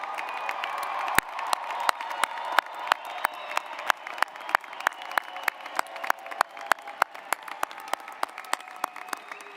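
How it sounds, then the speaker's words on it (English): A large audience at a spring university graduate and doctoral commencement breaks into sustained applause: dense, steady clapping with sharp individual claps standing out, and some cheering mixed in throughout. "let's give them another round of applause."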